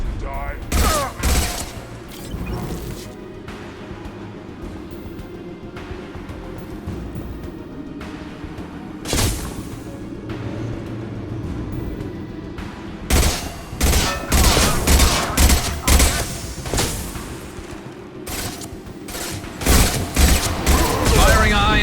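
Mass Effect 2 combat gunfire, with scattered shots early on, then a quieter stretch and dense volleys of loud cracks and blasts in the second half, mixed with character voices.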